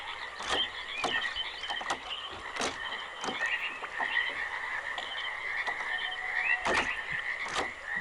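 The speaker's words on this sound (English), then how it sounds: "The frogs in this are very loud." Frogs in the swampy Channelwood Age of the Myst video game croak repeatedly and steadily, sharp clustered calls rising from a quiet watery ambience, with no speech.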